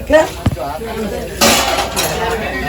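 Dishes and utensils clink and clatter during washing, with sharp metallic knocks followed by a burst of running water and a rinsing splash, fairly close and loud.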